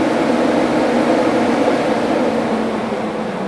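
Low-pressure axial fan running at its fifth, maximum speed, a steady broadband whoosh of rushing air that holds an even, loud level throughout with no other sounds.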